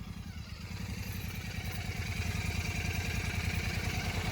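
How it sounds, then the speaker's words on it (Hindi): A Royal Enfield GT650 motorcycle engine runs steadily close by, a dense low rumble with rapid pulsing throb that builds slightly in loudness. "यार इसकी इंजन की बहुत नॉइज आ रही है"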